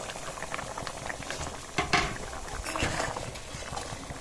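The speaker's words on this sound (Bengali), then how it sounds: "বড়াগুলো আর দিয়ে আর 2 মিনিট ফুটিয়ে নেব" A potol and prawn curry with fried fritters bubbles at a rolling boil in a pot, dense continuous popping and gurgling up close, with a couple of louder surges midway.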